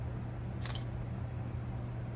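A DSLR camera's shutter fires once, a short crisp mechanical click standing out over a steady low room hum with no talking.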